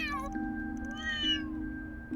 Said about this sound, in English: the kittens have found each other